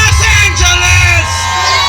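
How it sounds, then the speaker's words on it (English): A wrestling crowd at a live show in a packed hall roars with loud, sustained jeering and shouts, a dense wall of voices close and continuous. "Why are these people booing?"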